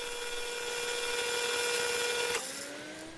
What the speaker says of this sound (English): I sand the finish with 400 grit sandpaper to smooth out any uneven areas.